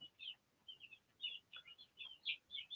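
Young birds kept indoors in a brooder under a heat lamp give a run of faint, high, short chirps in quick bursts, heard alone with no talk.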